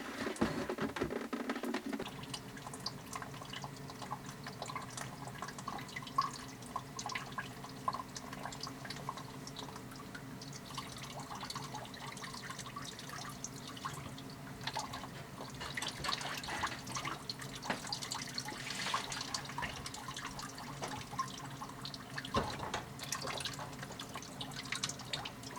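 Water drips and runs from a freshly cut household water pipe, a close, continuous patter of drops and trickling spread over a long stretch without speech.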